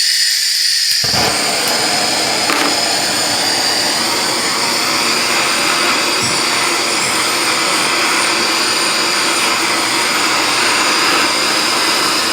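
A torch heats seized rear axle parts on a Wildcat Sport side-by-side, producing a loud, steady roaring hiss that runs continuously throughout, with no talking.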